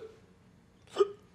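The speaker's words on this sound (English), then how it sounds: "I hate the hiccups." A single sharp hiccup from a person in a comedy scene, one abrupt close gulp-like catch standing out after a quiet stretch.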